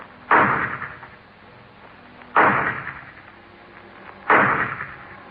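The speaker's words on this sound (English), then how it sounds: "The shots came from a low barn-like building at the rear of the property" Three gunshots fired from a low barn-like building in a radio drama, each a sharp, loud crack with a decaying tail, spaced about two seconds apart with no talking.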